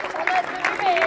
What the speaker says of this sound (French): Je voudrais qu'on applaudisse les garçons parce qu'ils ont tenu toute la journée